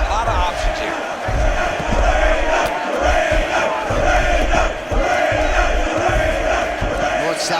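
A virtual arena crowd in the EA Sports UFC 6 video game roars steadily through a mixed martial arts bout, a dense continuous murmur with swells of cheering, while a commentator talks over it.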